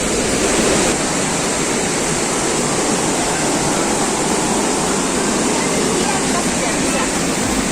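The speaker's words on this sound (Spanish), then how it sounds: "Conectar con lo que es el sonido del río, la naturaleza, es fascinante." A river flows steadily through a natural setting near an abandoned hydroelectric plant on the Guaire River, a loud, dense, unbroken rush of water filling the whole stretch with no pauses.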